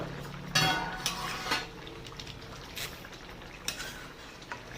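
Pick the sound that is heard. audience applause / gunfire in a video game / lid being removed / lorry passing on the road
lid being removed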